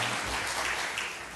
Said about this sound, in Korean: 다시 한번 영광의 박수 올려드립니다.